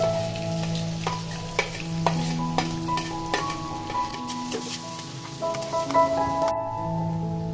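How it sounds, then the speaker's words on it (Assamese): Onions frying in oil and butter with two bay leaves, a steady close sizzle with repeated spatula clicks and stirring scrapes against the pan throughout. "এতিয়া মই পিঁয়াজখিনি ভুনি ল'ম"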